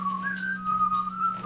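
A person whistles a wavering melodic line at karaoke, steady and fairly close, over a constant low hum in the room and with no talking.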